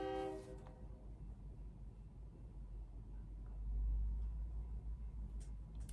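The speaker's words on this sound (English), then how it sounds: "Gonna wait for the train to go by." A train rolls past in the distance, opening with a brief horn blast, then a low continuous rumble that swells toward the middle and lingers, faint overall, with a few soft clicks near the end.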